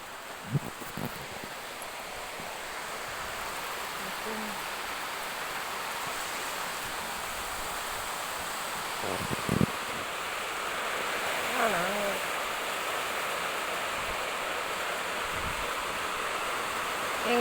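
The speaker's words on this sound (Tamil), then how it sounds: "அந்த அளவுக்கு காற்றடிக்குது. காற்று மழையும் சரியான மழை." Strong wind with steady rain, a dense continuous roar that holds at a constant level throughout, with a few faint knocks and thuds in the foreground.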